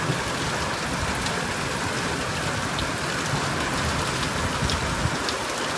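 Steady rain pours down outdoors near a shelter where young spotted doves are kept, a dense even hiss of drops on surfaces running unbroken throughout, with no voices.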